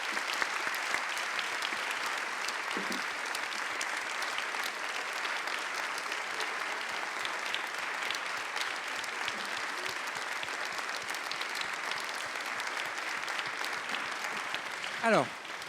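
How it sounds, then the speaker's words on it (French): Lecture audience applauding at the end of a talk by a mathematician, a long, even wash of many clapping hands at moderate level, with brief voices and murmurs surfacing through it. "pas trop d'applaudissements, s'il vous plaît"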